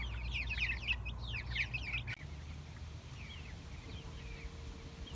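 Heritage chickens, a small flock of roosters and hens, cluck in a busy overlapping burst that then thins to sparse, quieter clucks over a low outdoor rumble.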